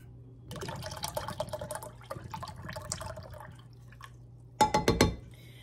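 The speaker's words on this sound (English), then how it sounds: "This is pineapple juice, and this is 6 ounces. So I'm going to put this in there." Light pineapple juice is poured into a cooking pot of sauerkraut and pork, a soft splashing trickle lasting a few seconds, then a short burst of clinks near the end, with no talking.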